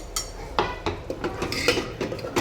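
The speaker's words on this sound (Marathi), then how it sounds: "आता मसाला तेल सुटतो छान परतून घेऊया" Mutton masala is stir-fried in a pan, a spoon knocking and scraping against the metal in repeated close clinks over a low sizzle.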